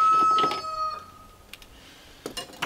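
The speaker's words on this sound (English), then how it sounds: "I don't mind the crowing in the morning, but the crowing all day long drives me insane" Rooster crowing near an Alaska cabin, one loud, close, drawn-out crow that fades, then quieter clucks and small knocks.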